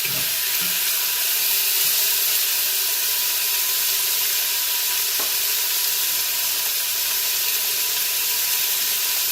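Chicken searing in a pan with Thai red curry paste: a steady, loud broadband sizzle with constant hiss throughout, no talking.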